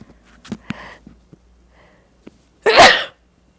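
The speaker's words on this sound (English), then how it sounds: "excuse me, I'm going to have to sneeze." A single loud, sharp human sneeze bursts out after a few quiet breaths and sniffs, standing alone in an otherwise still room.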